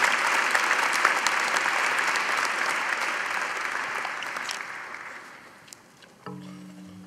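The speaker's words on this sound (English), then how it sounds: "Please join me in a round of applause for the graduates" A large audience at a 2022 Imperial College medical graduation ceremony claps for the graduates, dense sustained applause that slowly thins and fades, with a brief low tone near the end.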